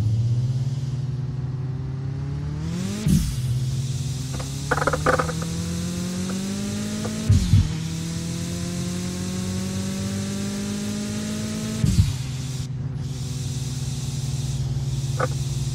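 An old car's engine drones steadily while driving in Mon Bazou, its pitch climbing with each gear and dropping sharply at three shifts, with a few small knocks and clatters over the hum.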